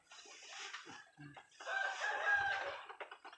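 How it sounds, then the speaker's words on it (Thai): A rooster on a rural Thai orchard farm in the morning crows once in a drawn-out call, preceded by a few softer clucks, moderately distant and fairly quiet. "แน่ไก่น่ะ"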